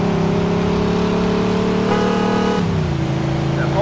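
Engine of a limousine in the game Mafia II revving and accelerating, a loud steady roar whose pitch climbs then drops as it shifts, close and continuous throughout.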